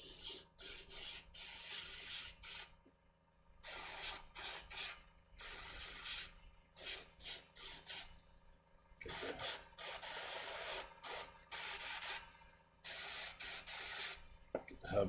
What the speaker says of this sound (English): Airbrush really needs to be cleaned, or because this has flake in it, I need to really turn up the air pressure.